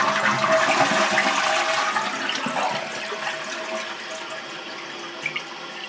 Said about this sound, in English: We'll flush it again.